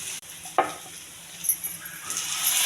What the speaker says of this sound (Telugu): ఉల్లిపాయ కరివేపాకు వేగిస్తున్నాను ఫస్ట్